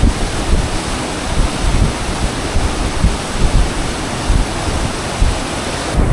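The Bhagirathi (Ganga) river rushes at the Gaumukh glacier among snow-covered mountains, a loud, unbroken roar of fast water with gusts of wind buffeting close by.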